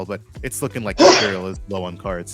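A person sneezes once, a sharp burst in the middle of casual talk during a card game tournament commentary, with speech continuing before and after.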